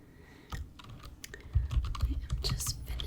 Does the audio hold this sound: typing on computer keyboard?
yes